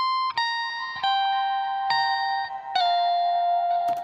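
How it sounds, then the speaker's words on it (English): Octave-up electric guitar lead run through an amp-simulator guitar rig, a loud, continuous bright tone with a few note changes and sharp attacks across four seconds. "So then when it hits the guitar rig, it sounds like this"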